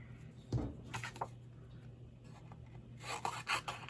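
Paper being trimmed down to size for a handmade card, with short rasping cuts around the half-second and one-second marks and a denser burst of scraping near the end, all quiet and close.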